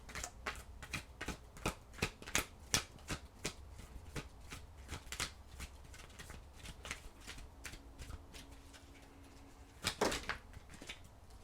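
Oracle cards being shuffled in a quiet room, a steady run of crisp riffling slaps and flicks through most of the stretch, with a denser burst of shuffling toward the end and no talking.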